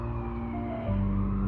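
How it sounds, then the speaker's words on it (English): Emergency vehicle sirens wail in West Palm Beach, a steady loud tone that shifts pitch partway through, with no talking. "Here's the sirens."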